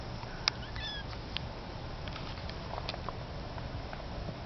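A kitten gives a few faint, high meows over a quiet room background, with light pattering sounds scattered between the calls.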